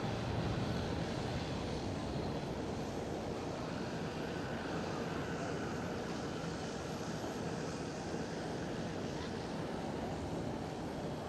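An Emirates airliner in its old livery takes off at Amsterdam Schiphol, a steady broadband jet roar holding at moderate, fairly distant loudness for the whole stretch, with faint voices underneath.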